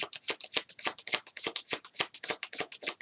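Tarot cards are shuffled by hand in quick, rhythmic riffles, a rapid series of crisp papery flutters close to the microphone, with no voices.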